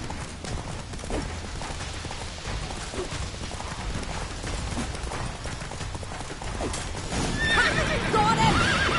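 Roach the horse gallops in The Witcher 3 with steady, rapid hoofbeats and ends in a loud whinny near the end. The game score and ambience play underneath, and no one speaks.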